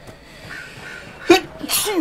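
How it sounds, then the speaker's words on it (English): A single sharp sneeze bursts out near the microphone after a quiet stretch, followed by a second breathy burst, heard during a Dragon Age: Inquisition gameplay session. "oh, that was a dangerous sneeze."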